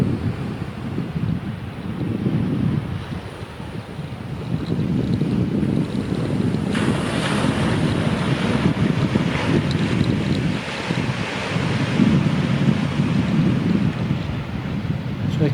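Steady wind roar and surf wash along a Scottish beach, heavy wind buffeting on the microphone throughout, with the rumble of waves swelling and easing, loud and close with no voices.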